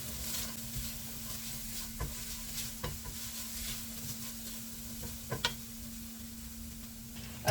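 Tomato paste frying in a pan for a vegan Marry Me Chicken, a low, steady sizzle with a constant hum and scattered scraping stir taps and clicks of a utensil against the pan.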